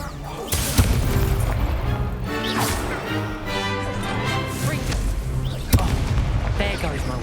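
An Incendio fire spell cast in the video game Hogwarts Legacy, a loud whooshing burst with sharp cracks and booms over dense combat noise, with further impacts throughout.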